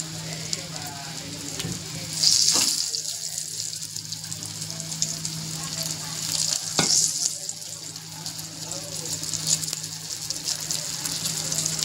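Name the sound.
frying with curry leaves in a pan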